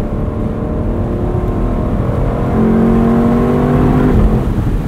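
A 2021 Lexus LC 500 Convertible engine holds a steady, throaty drone that swells into a rising rev near the end, loud and close with no talking.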